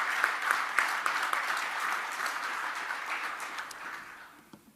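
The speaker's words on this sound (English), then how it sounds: "would you all please give yourselves a round of applause" Audience applause at a 2019 Bright Futures graduation ceremony honoring emerging executives and aspiring managers, a steady moderate wash of many hands clapping that fades out toward the end.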